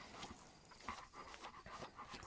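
A Great Pyrenees puppy pants quickly and steadily on a homestead, with soft rhythmic breaths close by at low volume and no talking.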